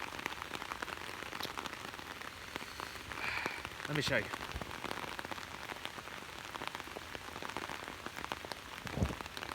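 Heavy rain falling outside, a dense steady hiss of drops hitting the ground throughout, with a person briefly speaking and a few thumps and footsteps.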